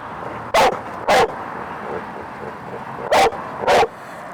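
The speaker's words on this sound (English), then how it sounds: "Barky dog." A dog barks in four sharp, loud bursts, two close pairs separated by a pause, over a low steady outdoor hum, with no talk during the clip.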